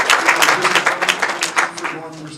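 Applause from an audience at a touchdown club banquet and Hall of Fame induction, a dense patter of clapping mixed with someone speaking over it, fading toward the end.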